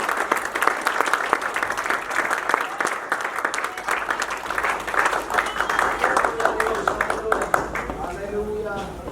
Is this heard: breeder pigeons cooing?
no